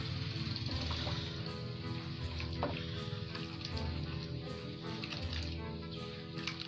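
A homemade laundry soap mixture with a kilogram of salt added is stirred continuously, giving a steady gritty scraping and churning that stays loud and even from start to finish, with no talking.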